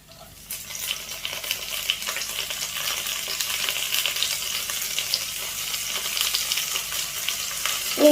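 Ginger and green chillies fry in hot oil in a pan, giving a steady, close hiss of sizzling that builds slightly over several seconds, with no one speaking.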